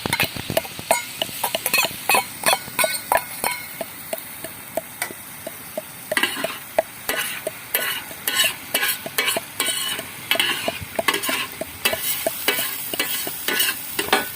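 Yogurt being stirred into onions frying in a handi pot, with repeated spoon scrapes and clacks against the metal over a steady sizzle, close and fairly loud throughout.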